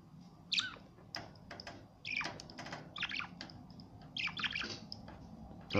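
A tiny, feisty pet bird at close range gives sharp, high chirps and squawks in short irregular bursts, with small rustling sounds between them.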